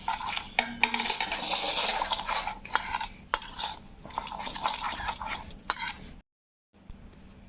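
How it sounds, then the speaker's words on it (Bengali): Semolina batter with sugar and black salt is being mixed in a bowl: close, rapid scraping and clinking of a spoon against the dish, then a brief silence and a quieter resumption, with no voices. "সব ভালোভাবে মিশিয়ে নেব"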